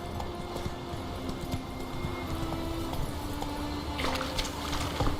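A horse gallops in The Witcher 3 video game, its rapid hoofbeats thudding steadily and close amid ambient game sound.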